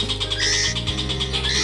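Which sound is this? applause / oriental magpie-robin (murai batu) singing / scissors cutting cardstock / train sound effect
oriental magpie-robin (murai batu) singing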